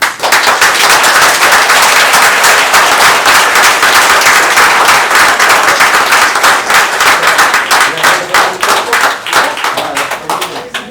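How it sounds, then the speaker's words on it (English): Loud, sustained applause from a large crowd at a committee meeting, dense rapid clapping that stays strong for the whole stretch and thins slightly toward the end. "How about a round of applause?"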